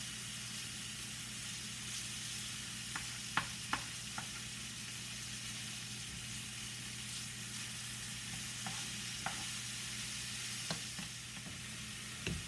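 Food fries on a hot pan at higher than medium heat, giving a steady close sizzle, while a utensil stirs it with scattered light scrapes and taps.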